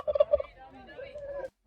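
A turkey gobbles at a petting zoo in a park in Bombarral, Portugal, a quick rattling burst followed by a softer drawn-out trailing call, close and clear, with no one talking over it.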